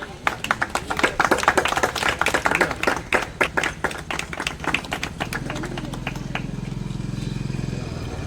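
An audience claps enthusiastically at an Independence Day celebration held by a trust in Chromepet, with dense, fairly close hand claps over the first five seconds, then fading into a steady low hum with voices.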